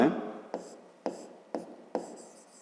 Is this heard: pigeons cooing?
no